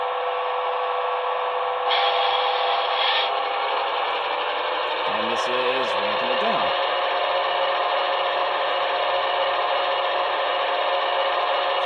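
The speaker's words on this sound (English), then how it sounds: "this one's called Ramp Traction Motors Up" A model train sound decoder plays its ramping traction motor sound, a steady electric whine and drone with a mechanical whir that rises and wavers through the middle, continuous and close, without talking.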